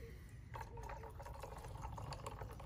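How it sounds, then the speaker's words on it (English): Sparkling water poured from a bottle into a cocktail glass, a steady close fizzing trickle with faint drips and bubbling that runs continuously without talk. "we're gonna top up with soda"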